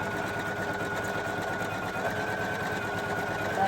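A Poolin EOC06 embroidery machine stitches at a steady rapid clatter, loud and close, a continuous mechanical whirring hum with rhythmic needle taps and no talk over it.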